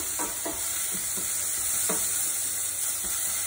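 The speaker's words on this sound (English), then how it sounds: "I find it really convenient to cook with a wooden spoon" A wooden spoon stirs vegetable biryani in a pot, with a steady faint sizzle underneath and soft scraping strokes at an irregular pace, close and moderately quiet, no voices.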